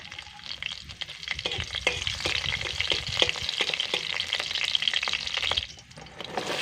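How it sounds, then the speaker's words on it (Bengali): Cumin seeds and green chilies crackle and sizzle in hot oil in a pan, a steady close frying hiss dotted with small pops and stirring clicks before easing off at the end. "তেলটা গরম হয়ে গেছে, এবার দিয়ে দিলাম হাফ চামচ জিরে, দিয়ে দিলাম কয়েকটা কাঁচা লঙ্কা।"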